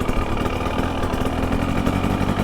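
A 2023 KTM 300XC TBI two-stroke dirt bike engine runs steadily with a throaty, continuous drone through a more open airbox, holding an even idle-like level with no speech.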